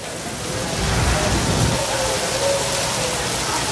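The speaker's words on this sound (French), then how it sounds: "comme il y a de l'orage, il pleut et tout" Heavy rain from a Florida thunderstorm pours down outdoors as a loud, dense, steady hiss with no clear thunder, filling the whole stretch without talk.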